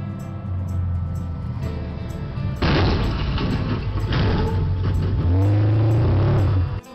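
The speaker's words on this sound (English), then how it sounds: "A driver in a pickup came roaring down the street" A pickup truck roaring down a residential street late at night, its engine rising loud and close with a revving surge and grinding scrape as it passes and sideswipes a parked car.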